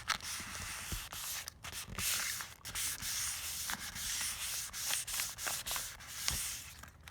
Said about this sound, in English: I'm just going to rub the surface on there.